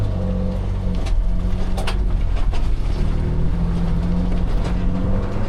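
A 2025 Toyota Tundra TRD Rally pickup pulls away from a stop while towing a trailer in cold weather, its engine a steady, loud low drone with road and wind noise layered over it.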